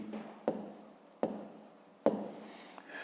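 A pen writes on paper while a maths exercise is worked out by hand, giving three short, crisp scratching strokes close by at a steady pace, with a quiet room between them and no talking.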